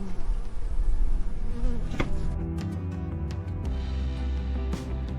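Stingless bees buzz close around a person's head on a farm, a continuous near droning hum with individual insects whining past.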